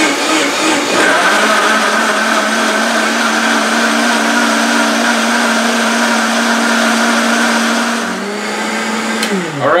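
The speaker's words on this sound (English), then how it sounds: "We got them both blended here." A Dynapro DPS-1050A commercial vacuum blender runs at full speed, a loud, steady motor whine with a constant high-pitched tone that dips and winds down near the end, close up with no talking.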